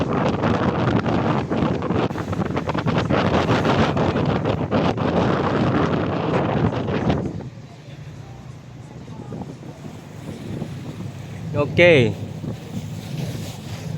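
Ferry ride back from Patong Beach, Phuket, with loud wind buffeting the microphone and a droning boat for about seven seconds, then calmer engine rumble and water, with a brief voice.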